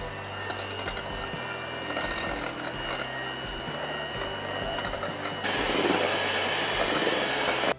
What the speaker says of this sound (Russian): миксер с венчиками главное. Взбиваем все это в такую густую пену.